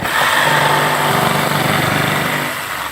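A jigsaw fitted with a down-cutting blade saws through veneered material, giving a loud, steady high-pitched motor whine with a rattling buzz as the saw bounces on the workpiece, continuous for the whole stretch.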